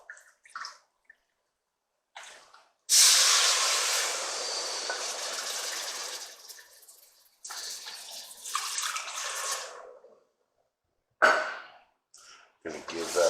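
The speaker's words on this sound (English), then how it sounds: "now we are going to add in our 2 cups of beef broth" Two cups of beef broth pour into a cooking pot for hot dog chili, a steady liquid splash lasting several seconds, followed by a shorter second pour and brief clinks near the end.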